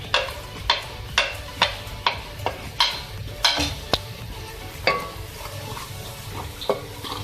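A spoon stirs chilli, turmeric and coriander powders into green eggplant and potatoes in a pan. Regular scraping knocks against the pot over a soft sizzle, then the stirring slows.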